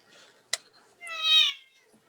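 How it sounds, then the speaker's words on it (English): A house cat gives a single clear, drawn-out meow indoors, preceded by a sharp click and some faint background murmur. "That's your cat, just the house cat."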